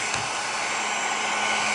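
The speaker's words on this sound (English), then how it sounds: "I'm trying this method with the hairdryer, and it seems to be working." Hair dryer blowing hot air onto a sticker on a vinyl record, a steady close whooshing roar that runs unbroken throughout with no talking.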